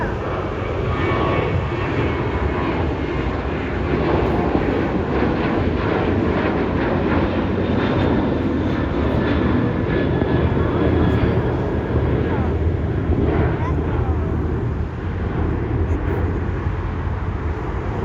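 A Delta airliner at LAX roars past at close range, a loud, sustained jet engine rumble with a rising whine that holds steady throughout, with people's voices faintly underneath.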